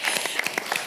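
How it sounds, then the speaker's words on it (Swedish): A short burst of audience applause: a quick run of sharp, overlapping claps at moderate loudness, close by, lasting under a second with no voices over it. "vi måste ge Alexander en applåd för hans ärlighet"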